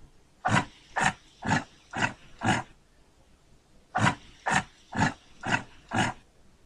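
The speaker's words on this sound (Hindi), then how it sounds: "Next is a yak." A yak gives two rhythmic series of five short, deep grunts, evenly spaced and separated by a brief pause, fairly close against quiet background.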